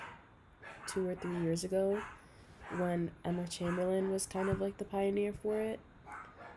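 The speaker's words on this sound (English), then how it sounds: "I also want to apologize for my dogs barking like bats out of fucking hell." Several dogs bark in repeated bursts in the background, loud enough to cut through a person talking steadily over them.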